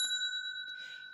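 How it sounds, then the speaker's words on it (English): A single bright bell ding signals a page turn in a read-aloud of the picture book Polar Bear, Polar Bear, What Do You Hear?, ringing clear and sustained with a soft second strike near the end, no voices. "Remember, when you hear the bell,"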